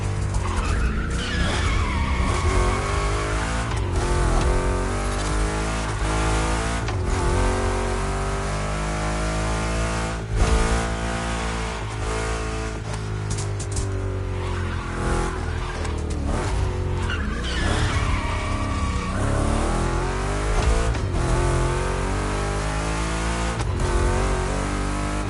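Two Chevrolet big-block cars race in The Crew Motorfest, with a loud, continuous engine roar that rises and falls through gear changes and squealing, skidding tires in the turns.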